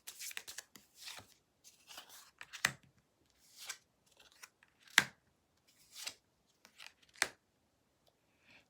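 Tarot cards are shuffled and drawn: a string of scattered, crisp slaps and sliding rustles spaced irregularly over several seconds, close and soft, heard alone without talk.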